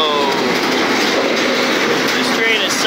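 A train rolls along the tracks on an overnight ride through Indiana, giving a loud, steady, continuous rumble and rattle throughout with no clear pauses.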